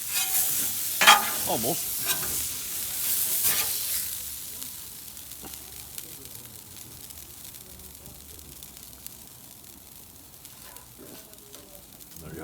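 Cheesesteak meat sizzles loudly on a Blackstone 28-inch griddle as a spatula scrapes underneath and flips it. The hiss then settles to a quieter, steady frying with occasional scrapes, and a voice briefly speaks.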